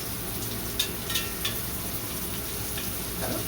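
Onion fries in a pan on medium heat, a steady close sizzle with a few brief stirring clicks and scrapes, no one speaking.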